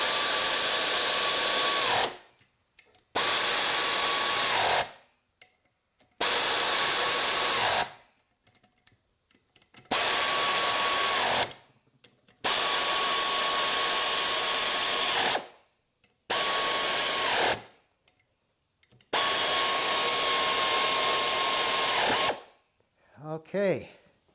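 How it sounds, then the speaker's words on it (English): A 1/2-inch air ratchet snugging down bolts, loud close pneumatic whirring in about eight separate bursts of a few seconds each, split by short silent gaps. "I got my 1/2-inch air ratchet, so let's snug these down"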